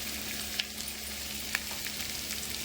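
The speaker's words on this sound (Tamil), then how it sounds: "பெரிய வெங்காயத்தை போட்டு வதக்கணும்" Sliced onions with turmeric frying in a pan for a cauliflower curry, giving a steady soft sizzle with a few faint stirring clicks and scrapes, close and fairly quiet, with no talking.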